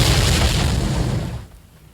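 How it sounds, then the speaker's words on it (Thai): A single muffled explosion from a skill attack in Roblox Blox Fruits booms loudly, then decays and fades out over about a second and a half. "มีระเบิดขึ้นมานะครับ"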